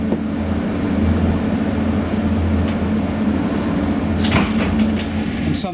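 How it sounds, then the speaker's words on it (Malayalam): Railway wagons stacked with logs cut to equal length roll along nearby tracks in Ternitz, a continuous low rumble and metallic rattle with a few brief squeals near the end. "ഒരേ നീളത്തിൽ മുറിച്ച് തടികളടുക്കിയ ട്രെയിൻ ബോഗികൾ തൊട്ടപ്പുറമുള്ള പാളങ്ങളിൽ കാണാം."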